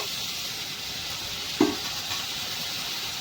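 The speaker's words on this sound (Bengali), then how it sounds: "মশলাটাকে ভালো করে কষিয়ে নিতে হবে।" Ginger, garlic and tomato paste sautés in oil over a cumin tempering, giving a continuous even hiss of frying with one brief knock of a utensil against the pan partway through.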